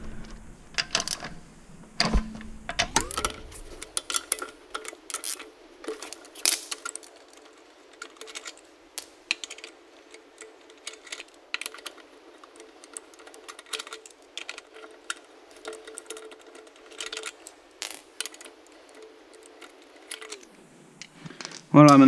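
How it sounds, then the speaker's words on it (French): A 17 mm wrench works the wheel lug bolts off a BMW E39, producing faint, scattered metallic clicks, taps and small rattles that come in irregular bursts over quiet background. "Donc on vient avec notre clé de 17 et on va déposer la roue"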